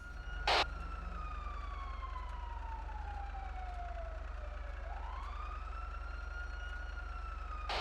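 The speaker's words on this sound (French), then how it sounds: "Il y a une sirène qui vient vers vous." A police siren in a video game wails steadily in a long, slow sweep, fairly distant and faint, with a short sharp burst of noise near the start.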